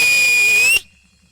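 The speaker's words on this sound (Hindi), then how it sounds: "ये सीटी सिर्फ यीशु के लिए।" A whistle blown at a religious convention gives a loud, steady, piercing high tone held for most of a second, then cut off sharply, leaving a faint residual hum.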